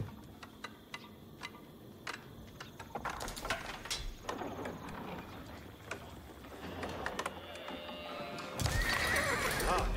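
Horses neigh and hooves clip-clop in Age of Empires 4 as mounted archers and riders gather, with several whinnies over a steady busy game soundscape that swells louder near the end.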